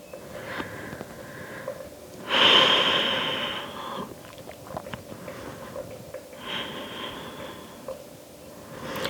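Slow, deep breathing during a yoga power flow session, with a loud forceful exhale through the nose near the middle, followed by quieter drawn breaths close to the microphone.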